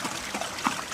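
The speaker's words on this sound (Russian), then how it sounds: "проточная вода здесь" Clean running water trickles steadily into a roadside puddle outdoors, a soft continuous dribble at moderate distance with no voices.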